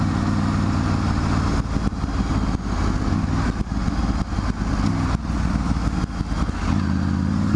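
A Triumph Tiger 900 GT Pro motorcycle cruises in fourth gear at about 2300 rpm, its engine giving a loud, continuous throbbing drone with wind buffeting and no talk.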